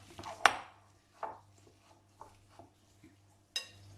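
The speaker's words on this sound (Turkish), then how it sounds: "hemen maydanozu ince kıyalım" A knife chopping parsley finely on a board for a baked cheesy bread recipe, a few sharp close taps spaced irregularly over a low steady hum.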